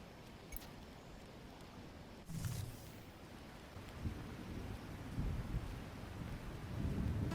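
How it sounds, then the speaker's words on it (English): Rain falls steadily in the video game Lightyear Frontier while thunder rumbles low and distant, swelling in a few soft rolls over a constant wet hiss. "it's raining."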